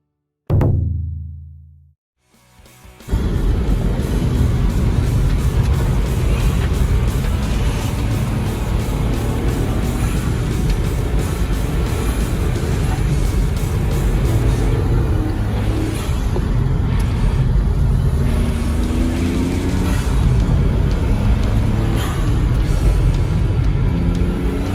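Honda S660 on a race circuit during a time attack lap with a passenger aboard, stock tires and stock turbo: a loud, steady engine and road roar fills the lap after a brief quiet start, with rising and falling revs.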